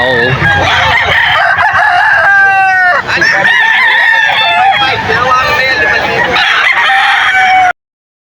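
Fighting roosters crowing loudly at a busy poultry market in Bocaue, Bulacan, with several overlapping cock-a-doodle-doo calls and clucks close by over a constant crowd murmur.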